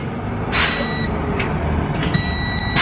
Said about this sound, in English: Somebody wanted to hear the brakes, the air brakes while it was off.